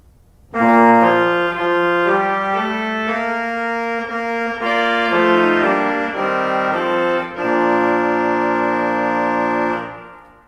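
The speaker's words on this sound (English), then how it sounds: "the one in the swell is a very bright, brassy, French-style reed" A bright, brassy French-style trumpet reed stop in the swell division of a church pipe organ plays sustained chords, loud and full, with shifting harmonies for several seconds before releasing.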